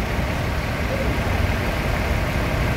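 A large bus engine idles before departure with a steady low rumble and broad hiss, constant and close throughout.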